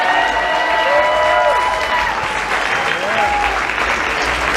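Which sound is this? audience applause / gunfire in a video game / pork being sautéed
audience applause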